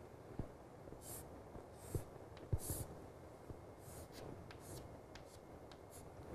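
A Japanese character handwritten stroke by stroke, with faint, close scratches and taps of the writing tool on the surface, spaced irregularly across a quiet background.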